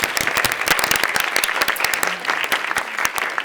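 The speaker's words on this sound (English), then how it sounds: "Let's give these folks a round of applause." Audience applause at a community service awards ceremony, dense steady clapping from a crowd held at an even level for a few seconds.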